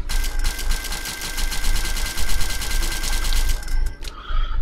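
Rapid automatic gunfire in Metro Exodus, a dense, loud, evenly spaced stream of shots rattling for several seconds before cutting off, followed by a few brief mechanical clicks.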